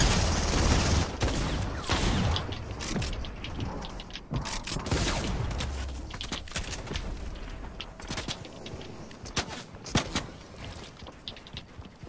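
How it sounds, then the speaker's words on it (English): Dense, sustained bursts of automatic gunfire and overlapping shots rattle through a video game firefight, loud and continuous with a few sharper cracks near the end. "Oh, they're shooting at you now."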